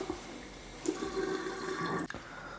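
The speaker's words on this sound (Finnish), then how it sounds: "Elikkä kastellaan talouspaperi." Tap water runs and splashes onto a paper towel held under it, a soft continuous trickle with a brief sharp clunk near the end.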